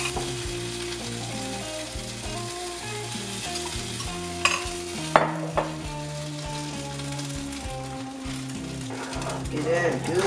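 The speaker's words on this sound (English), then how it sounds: "Get that good stir so we get it all heated." A bourbon sauce mixture for New Orleans bread pudding is stirred in a pan over medium-low heat, with a soft sizzle and occasional utensil scrapes and taps beneath steady tonal background music, with no talking.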